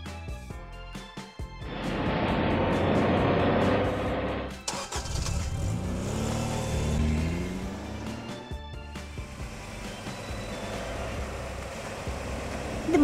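Small car engine starting up and revving, rising and falling through several surges at moderate distance, without any talk.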